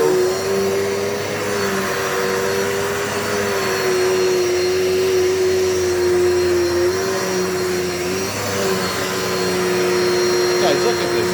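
A Dirt Devil multi-surface vacuum cleaner runs continuously and loudly, a steady motor whine with a strong tonal hum that shifts slightly as it moves across the floor.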